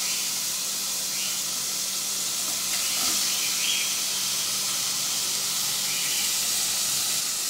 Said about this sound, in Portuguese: Agora eu vou passar o bacon para a panela para ele fritar.